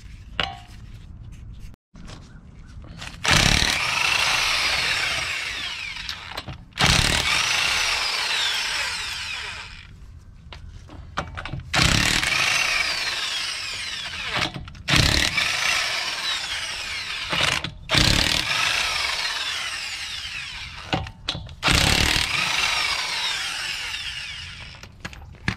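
A corded Craftsman electric impact tool removes 22 mm lug nuts from the front wheel of a 2007–2014 Chevy Suburban, Tahoe or Yukon, sounding in several loud, close bursts of whirring and hammering separated by short pauses.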